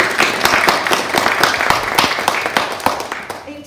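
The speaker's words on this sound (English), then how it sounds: "So I think that deserves a round of applause" An audience applauds, a steady patter of many hands clapping that gradually fades out after a few seconds.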